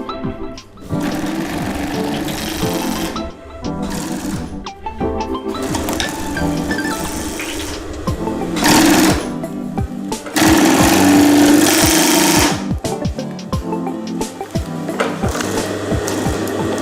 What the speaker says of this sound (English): please take another look at how the HR-2A overedges the fabric.